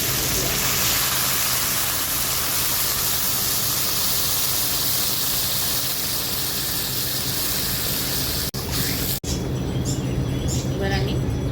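Mustard curry hisses and sputters steadily in a hot pan while it is stirred, a loud dense sizzle running almost unbroken, with two brief dropouts near the end.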